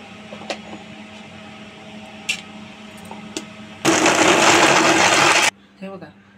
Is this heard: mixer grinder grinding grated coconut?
yes